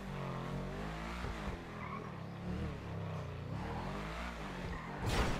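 An Audi RS5 coupe, the 8F Drafter in GTA 5, drives with a steady engine tone that rises and falls through gear changes, then the tires squeal sharply near the end.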